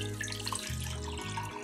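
Water pours steadily into a small pot, 500 grams of it, for a jelly dessert. A continuous splashing stream runs close and alone, with no talk over it.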